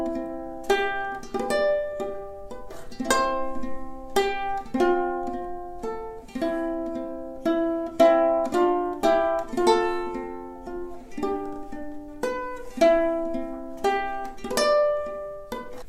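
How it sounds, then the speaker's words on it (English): Ukulele fingerpicking a melody, plucked notes and chords in a gentle, even rhythm, clear and close throughout with no talking. "You can do it with the ukulele and it sounds like this."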